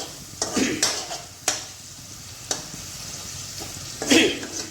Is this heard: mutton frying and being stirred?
yes